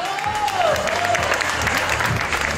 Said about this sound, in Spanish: quiero que les den un aplauso para que se motive